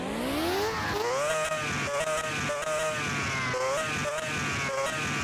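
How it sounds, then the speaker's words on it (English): A Pagani Zonda Cinque V12 engine revving in a video game, a high-pitched whine rising and falling through repeated throttle blips under someone talking over it. "Oh, there is that high-pitched whine. Sounding like a Formula 1 car. Let's give it some gas."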